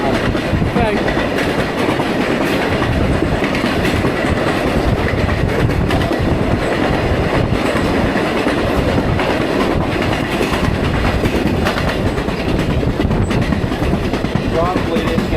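Reading & Northern excursion train behind locomotive 2102 rolls past with steady clickety-clack of wheels and rumbling railcars, loud and continuous throughout, with a voice talking softly underneath.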